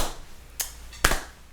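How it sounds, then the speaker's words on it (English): A slow hand clap: two sharp, isolated claps about half a second apart, the second louder, standing alone in a quiet indoor setting. "Slow clap."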